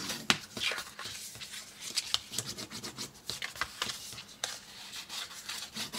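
A scoring tool and burnisher rub over damp cardstock in a papercraft project, making quick irregular scraping strokes that are close and fairly quiet, with no talking.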